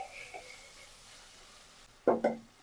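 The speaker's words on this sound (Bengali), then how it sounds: "ঢাকনাটা তুলে এবার আমি লবণ দিয়ে দেবো নাড়াচাড়া করে নিচ্ছি" Okra (bhindi) in a pan with oil and salt gets stirred: a quiet, faint background stretch, then two short, sharp scraping clatters near the end.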